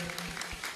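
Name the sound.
applause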